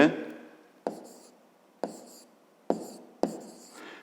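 A pen writes numbers by hand on paper in short scratchy strokes, about five quick taps and scribbles spaced under a second apart, close and quiet.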